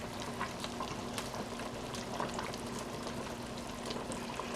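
Dumplings cooking in simmering chicken broth in a pot, a faint steady bubbling with small pops and gurgles throughout, no voices.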